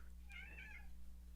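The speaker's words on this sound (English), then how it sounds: "That's my cat heckling me." A single cat gives one short, faint meow over a low steady hum, with no talking.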